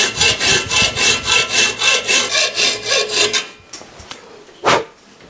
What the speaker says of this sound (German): Nun reduzieren wir noch die Höhe der Leiterplatte.